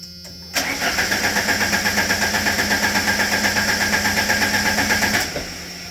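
A car engine cranks with a new sensor fitted, the starter churning in a rapid, even, loud pulsing rhythm for about five seconds without catching, then stopping abruptly.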